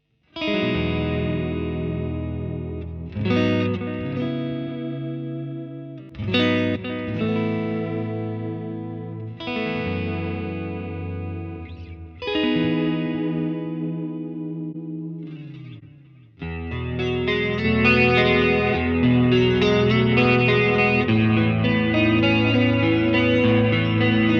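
A guitar played through a Line 6 HX Effects unit with a delay patch, several ringing chords whose repeats trail and wash into one another, ending in a fuller, sustained strummed passage.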